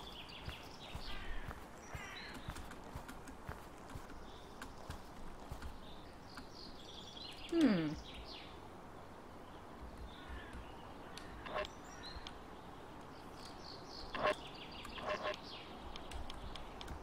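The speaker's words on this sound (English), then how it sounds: "Birds." Ducklike quacks and honks from birds in a courtyard in the video game Sally Face, a few scattered calls over a quiet ambient background.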